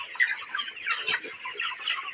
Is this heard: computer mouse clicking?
no